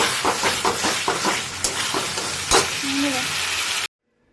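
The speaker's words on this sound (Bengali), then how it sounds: "মশলাটাকে একটু তেল ছাড়া অবস্থা অবধি কষে নিতে হবে" Spicy masala with tomato, cooked down for egg masala, sizzles in oil while a spoon stirs it in quick repeated scraping strokes. The close frying hiss is broken by a sharp clack before ending suddenly.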